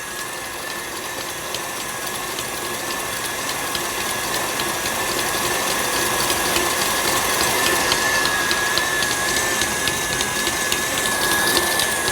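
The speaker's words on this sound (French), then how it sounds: "je mets le batteur à vitesse maximum" An electric mixer beating meringue with sugar at maximum speed gives a steady, loud mechanical whir with a high motor whine and fine rattling gears, running without pause.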